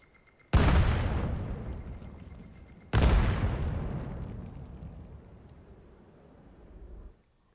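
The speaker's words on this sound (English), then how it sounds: "Pretty solid nade toss there from Kenny" Two heavy grenade blasts go off in the VAIL VR shooter, about two seconds apart, each a sudden loud boom that rolls off into a long rumbling decay.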